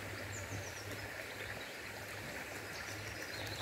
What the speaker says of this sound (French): T'entends le robinet qui coule là?